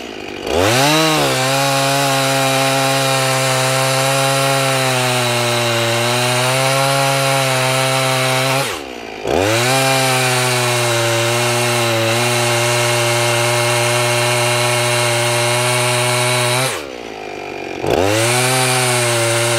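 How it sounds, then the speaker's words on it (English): A chainsaw cuts through apple wood, engine snarling loudly and steadily under load in long passes, briefly dropping off twice between cuts before revving back up. "Let's cut a piece of apple and see what happens,"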